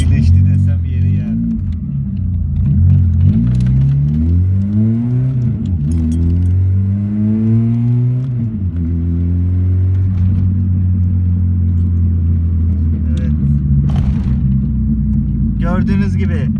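A Renault 9 Broadway car engine revs and rumbles through a clutch test, its pitch rising and falling in several sweeps before settling into a steady idle, close and loud, with someone talking over it.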